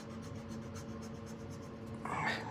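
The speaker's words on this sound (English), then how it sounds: "just gotta erase this" An eraser rubbing out a pencil drawing of a husky on paper, a close, rhythmic scratchy scrubbing in quick strokes that turns slightly harsher toward the end, no talking.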